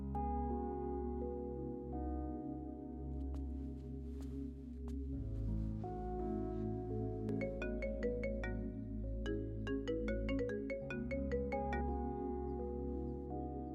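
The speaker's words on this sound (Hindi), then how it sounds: "वो संतोष बार बार फोन कर रहा है।" A melodic phone ringtone plays continuously, a looping tune of bright chimes over a steady bass line, with no talking.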